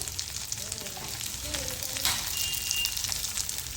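Turmeric powder stirred into hot oil for a tempering, a bright continuous sizzle with occasional spoon strokes and faint kitchen noise.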